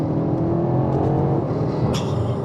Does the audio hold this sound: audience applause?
no